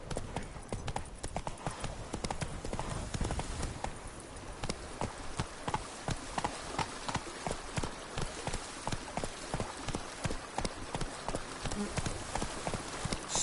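Horse hooves clip-clopping at a steady trot while riding in The Witcher 3 video game, a rhythmic close series of hoof strikes continuing throughout, with faint game ambience underneath.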